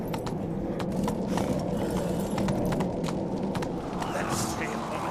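In The Witcher 3 video game, a horse's hooves clip-clop in a quick, steady rhythm over a continuous ambient bed, while a voice speaks.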